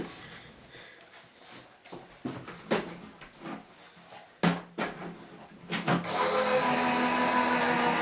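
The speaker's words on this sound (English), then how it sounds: "run these through the die cutting machine" A die cutting machine feeds card plates through with clunks and knocks, then settles into a steady mechanical hum. Everything is close and moderately loud, and no one talks.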